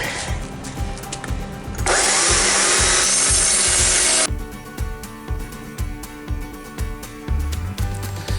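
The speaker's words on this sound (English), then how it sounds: "It was making my chain smoke a little bit on my chainsaw." A chainsaw roars loudly through very hard wood for a couple of seconds, its chain smoking, framed by quieter mechanical rumbling and rhythmic thumps before and after.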